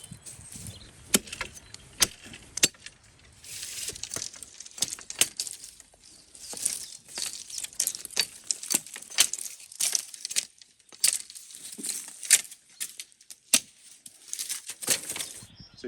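Hazel rods being cut from coppice stools for hedge-laying binders outdoors: close, irregular snapping and crackling cuts with rustling twigs and branches, steady sharp bursts throughout and no speech.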